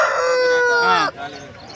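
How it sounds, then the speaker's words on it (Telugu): A Kakinada rooster, about four kilograms, crows loudly and close at the Pileru chicken market, one long harmonic call falling off sharply at the end, followed by softer market background. "మీరు చూస్తున్న ఈ కాకినాడ పుంజు వచ్చేసి హైట్ వచ్చేసి ఇరవై నాలుగు వైట్ వచ్చేసి నాలుగు కేజీలు ఉన్నదంట"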